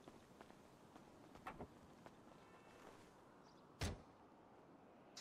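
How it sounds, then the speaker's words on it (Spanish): A single faint, muffled thud of a door shutting inside the GTA V game, sitting low in a steady background hiss with a few soft knocks just before it. "Ok, cerramos la puerta."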